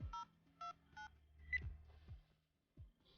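Telephone dialing tones, three short clear DTMF beeps in a row followed by a brighter tone, with faint low thumps and quiet gaps between, heard alone without speech.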